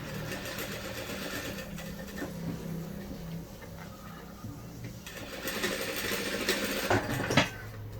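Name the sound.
sewing machine stitching a cushion along the marked line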